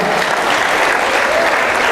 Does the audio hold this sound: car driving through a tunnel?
no